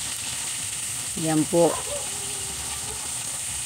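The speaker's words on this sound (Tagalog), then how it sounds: "nagpiprito lang muna ako dyan ng isda" Galunggong fish fries in a pan with a constant, moderate sizzle and hiss, while a voice speaks briefly over it in the middle.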